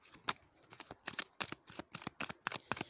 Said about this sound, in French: je vais tirer 2 cartes qui vont nous parler du sentimental au niveau général